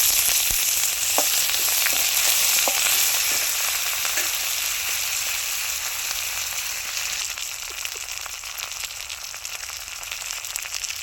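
Curry leaves fry in a hot oil tadka for dal, giving a loud, dense, steady sizzle with scattered crackles and pops that eases slightly over time.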